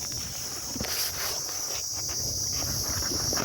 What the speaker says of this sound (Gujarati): અત્યારે તમરા બોલે છે આ તમરા બોલે